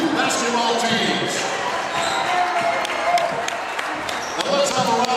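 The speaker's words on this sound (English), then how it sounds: "let's hear a big round of applause for all our youth basketball teams" Applause from a crowd at a high school varsity basketball game honoring the youth basketball teams, a steady wash of clapping in a gym with sharp claps and a few bounce-like thumps, with voices mixed in.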